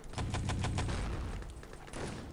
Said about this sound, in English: Max does get a rifle kill